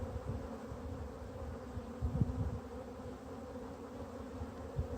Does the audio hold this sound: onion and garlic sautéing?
no